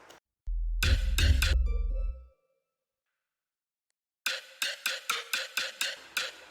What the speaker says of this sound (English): So the processing of the lead sounds like this.